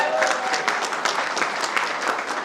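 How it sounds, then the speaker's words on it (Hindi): A seminar audience gives a sustained round of applause, dense and steady clapping from many hands filling the room at fairly close range, with no speech over it. "एक बार जोरदार तालियां हो जाए"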